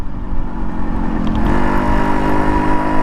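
A restored Yamaha RX100 motorcycle engine hums steadily while riding at a constant moderate speed of about 40, a loud, close, continuous drone with wind rush and no talking.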